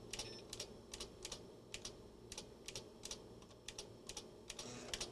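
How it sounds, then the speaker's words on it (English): A single key on a computer keyboard is struck again and again, about twenty quick crisp clicks in small irregular bursts, close up and alone over a low steady hum. "I'm going to spam the A key"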